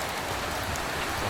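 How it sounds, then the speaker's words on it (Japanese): Heavy, steady rain pours down outside a secluded hot-spring inn near the Shimanto River headwaters in Kochi, a dense, even hiss of drops on surfaces lasting throughout with no voices. "だいぶ降ってますね。"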